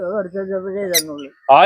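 A bird's harsh, drawn-out squawk with strong harmonics, then a brief pause and a loud, sharp second call close by.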